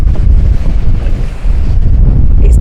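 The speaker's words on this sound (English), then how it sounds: "Wendy, let's go in where it's not quite so breezy" Wind gusts outdoors beside a VW camper van, producing a loud, constant low rumble of buffeting against the microphone with no talking.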